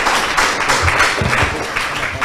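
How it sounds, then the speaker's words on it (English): Audience applause for a school debate team, a dense wash of clapping filling the hall steadily for a couple of seconds, with faint voices mixed in. "Ladies and gentlemen, please give them another round of applause."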